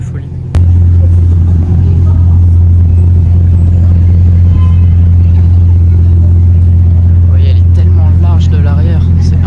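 A Bugatti Chiron with a Hermès interior rumbles loudly and steadily at close range, a deep continuous engine drone that kicks in after a brief pause and holds throughout, with voices talking over it.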